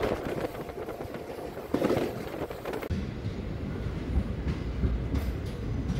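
A Charlapalli–Tirupati special passenger train rolls through the night, its carriage rumbling steadily with rattling and a brief louder clatter, heard from inside the coach.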